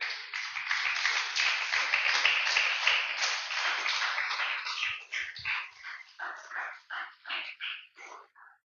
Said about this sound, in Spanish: Déselo fuerte el aplauso al Señor